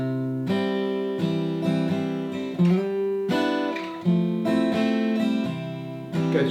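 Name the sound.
acoustic guitar strumming chord progression from a song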